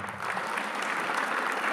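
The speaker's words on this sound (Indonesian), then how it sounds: "Beri tepuk tangan buat" A church congregation applauds during a sermon, a thick, continuous roar of many hands clapping that swells in just after the start and stays even.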